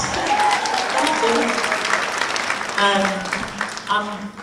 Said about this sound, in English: Give a round of applause for that.